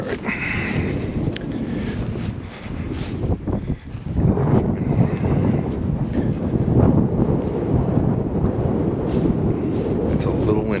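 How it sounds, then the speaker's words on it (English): Gusty wind buffets the microphone in a continuous low roar outdoors during Ohio deer season, with rustling and a few brief knocks. "It's a little windy."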